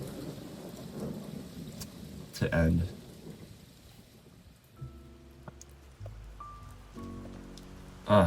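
Rain and thunder effect in a song: steady rain hiss with rolling thunder bursts, later joined by soft musical tones and closing on another loud crack.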